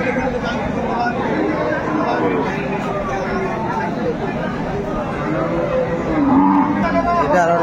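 Cows and calves moo repeatedly amid a busy crowd at the Aftabganj cattle market in Dinajpur, with people chattering and talking all around in a noisy open-air setting.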